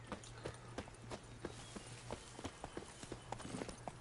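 Geralt's horse Roach runs in Witcher 3: Blood and Wine on PS5. Hooves beat out a steady, rhythmic clip-clop, close and continuous, with no voices over it.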